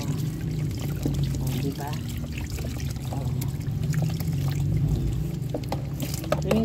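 Water poured over a cat during a bath, a steady splashing pour running under close talk from people bathing it.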